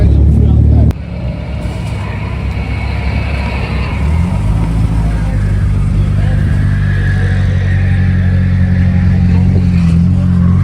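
At a spring track day at Castle Combe, a pink Porsche sports car engine gives a deep, loud rumble that builds into a rising rev partway through, with voices heard over it.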